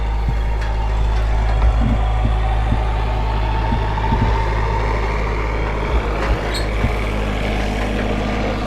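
A neighbour's farm tractor passes by outdoors on a working farm in France, a loud steady diesel engine rumble with a low drone that holds throughout.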